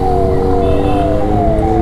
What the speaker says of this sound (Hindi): पीछे एम्बुलेंस है भाई।